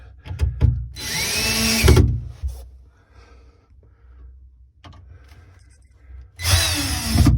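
A power drill drives screws into a wooden roll top desk during assembly, two loud close bursts of whirring motor about a second long each, separated by quieter handling clicks and thumps.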